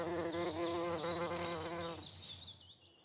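Pollinating insects buzz close by, a steady harmonic drone that holds for about two seconds and then fades into faint higher whines as they move off.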